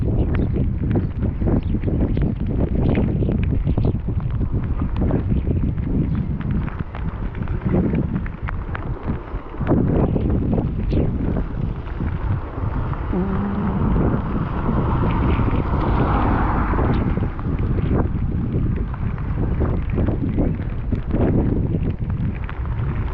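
Strong wind buffets a microphone during a bicycle tour along a canal road in bad weather, a loud continuous roar with gusty swells that covers everything else.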